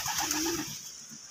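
A dark pigeon bred at home coos in a few soft, low, rolling phrases close by, fading over about a second with light background noise and no talk.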